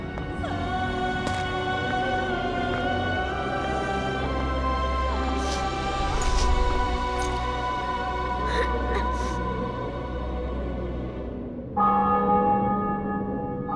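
Church bells in the video game The Witcher 2 ring continuously with a sustained, layered metallic tone that fills the whole stretch, dropping in intensity briefly near the end before resuming.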